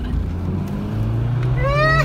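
A Nissan Micra pulls away from a driveway, its engine note rising steadily and building to a climbing whine near the end, loud and close throughout.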